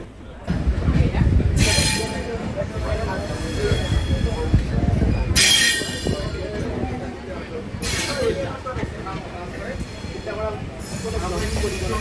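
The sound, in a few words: Shantiniketan Express train arriving at Bolpur station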